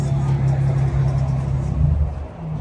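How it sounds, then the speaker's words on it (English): Infiniti Q50 Red Sport fitted with a Motordyne exhaust, a steady low engine drone and exhaust rumble at close range, with people talking over it. "Motordyne exhaust on the Q50 Red Sport"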